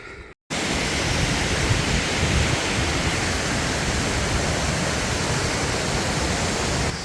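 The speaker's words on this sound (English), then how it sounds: "So that's Erland Falls" Erland Falls on the Routeburn Track in New Zealand, swollen after heavy rain, roars as a steady, loud, broadband rush of falling water that fills the scene after a brief silent gap at the start.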